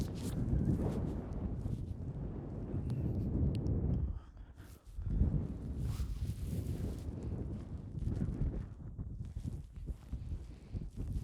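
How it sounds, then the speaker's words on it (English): Strong wind gusting outdoors at Sandvík, roaring continuously and buffeting the microphone in heavy low rumbles, with a brief lull before the blasts resume. "It's really windy."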